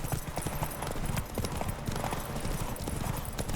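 Roach the horse galloping in The Witcher 3, with rapid, close, rhythmic hoofbeats pounding steadily throughout and a faint voice in the background.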